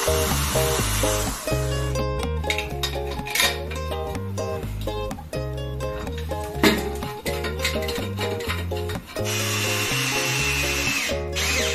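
A power drill bores a hole into ceramic bathroom tile during installation of a glass sliding shower door, a steady loud whine running nearly continuously with brief dips and restarts, no voices present.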